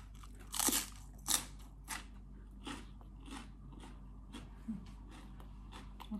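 Someone bites and chews Isan sausage, a Thai fermented pork sausage, with sharp crunchy bites close to the mic, loud at first and then fainter chewing crunches spaced about every half second.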